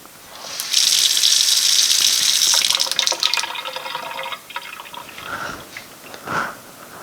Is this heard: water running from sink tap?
yes